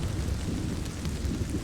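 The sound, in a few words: thunderstorm with heavy raindrops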